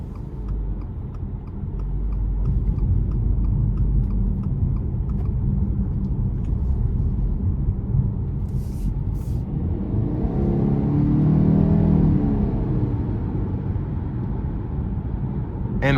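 A 2023 Subaru Ascent Limited with its 2.4-litre turbo engine and CVT on a drive, heard from inside the cabin as a steady low engine and road rumble that swells midway under acceleration, with occasional faint talk.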